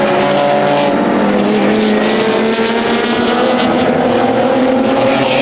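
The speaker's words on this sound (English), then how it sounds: "Big fight under braking. That's the M4 BMW" GT race cars, among them a BMW M4, race hard and brake into a corner at Balaton Park in an endurance race, their engines a loud, close roar with falling pitch as the cars decelerate, nothing else audible.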